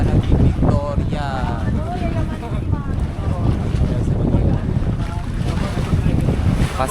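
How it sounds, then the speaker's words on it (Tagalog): Strong wind buffets the microphone on a boat trip, a loud steady low roar with waves and the boat underneath, while voices talk over it throughout. "ang lakas ng hangin"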